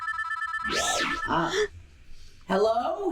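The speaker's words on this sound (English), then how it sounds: "I hear ringing." A telephone rings in an animated children's Easter special: a bright electronic ring for about a second, followed by a voice speaking.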